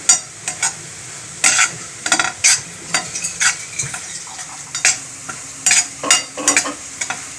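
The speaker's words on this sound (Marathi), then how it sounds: "थोडंसं जायफळ घालते। परतवून घेऊया।" A spoon stirs cardamom powder and nutmeg in a pan for ukadiche modak filling, giving repeated short scraping and clinking strokes with a faint sizzle between them, close and loud with no talk.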